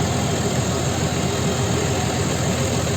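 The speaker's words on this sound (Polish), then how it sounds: "skoczyłem w ciągnik" Tractor engine idling, a loud, steady, close rumble that holds constant throughout the short stretch with no other sounds.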